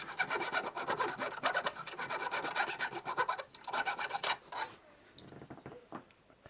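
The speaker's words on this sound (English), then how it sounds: "I've got a chainsaw file here just to deburr the inside of there." A chainsaw file rasps against the inside of a turned wooden Klein bottle, deburring it in quick, steady back-and-forth strokes that are close and fairly loud, then thin out into lighter scratches near the end.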